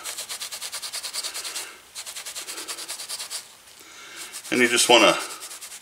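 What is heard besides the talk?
buffing a leather 1911 holster by hand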